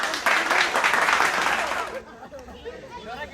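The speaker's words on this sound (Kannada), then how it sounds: "ಬರ್ಲಿ ಚಪ್ಪಾಳೆ." A group at a bachelor party cricket match claps and cheers for an incoming batsman, a burst of close applause with chatter that fades out after about two seconds, leaving voices talking.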